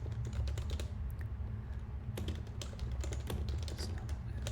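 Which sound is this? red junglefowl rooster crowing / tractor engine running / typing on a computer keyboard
typing on a computer keyboard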